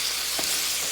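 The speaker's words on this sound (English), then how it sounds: "I'm cooking them before I put them in the pot, just to release all of this grease" Zatarain Cajun sausage and smoked sausage crackle and hiss in a hot pan as the grease renders out, making a dense, loud, steady frying sizzle over a short stretch.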